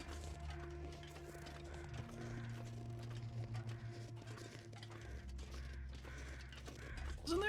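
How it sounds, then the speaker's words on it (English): Crows cawing in a survival video game, heard faintly over a steady droning game soundtrack with layered tones, a few scattered calls standing out across the stretch and a brighter burst near the end. "I believe those crows that we hear are a corpse in front of the trailer."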